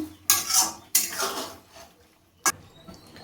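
Fried paneer pakoras tossed in a pan for chilli paneer, heard as three distinct metallic scrapes and clanks of a spatula against the pan, close, with quiet gaps between them.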